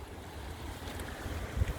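Strong wind buffets the microphone outdoors in a garden, a low, rumbling roar that swells and gusts unevenly without any voices.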